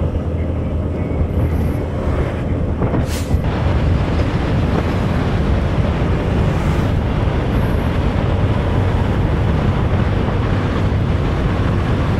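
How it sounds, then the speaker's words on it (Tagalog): Steady, loud wind roar buffeting the microphone throughout, a constant rushing noise with no voices, from a strong headwind while riding a Fazzio 125 scooter between Matnog and Sorsogon City. "Medyo mahirap magmabilis kasi pasalubong yung hangin"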